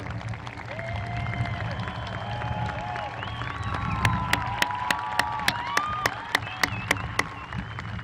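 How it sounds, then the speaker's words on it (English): Graduation audience at a high school ceremony applauds staff, a broad, distant roar of clapping and crowd noise with faint murmured voices, joined midway by a run of sharp, evenly spaced claps close by. "please join me in giving them a well-deserved round of applause for their hard work"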